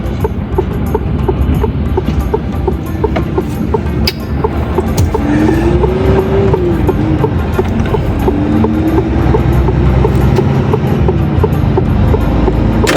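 A train rumbles steadily along railway tracks in Europe with a loud, continuous low roar, a faint rising and falling whine partway through, and no voices.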